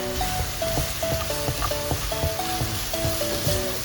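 Chicken sisig sizzles steadily in a hot pan while it is stirred and mixed, with a constant loud crackle under faint background music and no voices.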